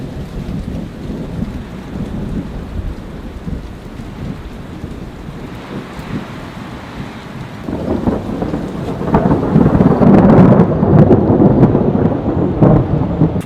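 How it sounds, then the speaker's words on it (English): Thunderstorm with heavy rain: a steady downpour and low rolling thunder, building louder and more intense in the second half. "the winds intensified, and the first rumbles of thunder echoed through the landscape"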